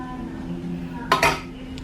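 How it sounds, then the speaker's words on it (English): A spoon stirs homemade red sangria, giving a brief cluster of bright clinks and scrapes midway through, close and fairly loud against a quiet room with a low steady hum. "I give it a little stir."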